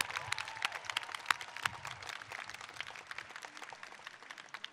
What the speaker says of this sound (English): let's give a round of applause to our great talent, Parajita Bastola, for that amazing anthem